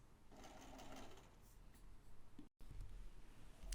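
A sewing machine stitches fabric lining for a bottle holder, fast steady mechanical whirring in short runs broken by a brief full stop, close and fairly faint.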